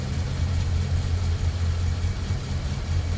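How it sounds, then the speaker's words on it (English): A 1939 LaSalle Series 50 coupe's L-head V8 idles smoothly and steadily, a low, even rumble recorded close to the engine with no voices. "There it is, that L head. V8 power. And you talk about just running smooth."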